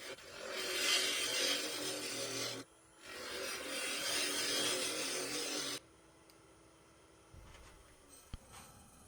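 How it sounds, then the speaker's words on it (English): A half-inch bowl gouge cuts cherry burl wood on a lathe, two loud rough shearing bursts of a few seconds each, separated by a brief pause, then near quiet with faint clicks. "They're just chips that's flying off the half-inch bowl gouge."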